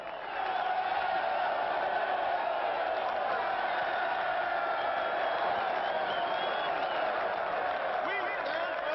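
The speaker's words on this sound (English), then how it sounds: "You give me a big yell, huh?" A large crowd at a prison yard rally yells and roars together, a dense, sustained wall of voices held loudly and steadily throughout.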